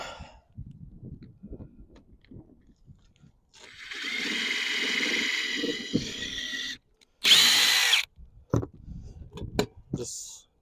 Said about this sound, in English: Just do a little pilot hole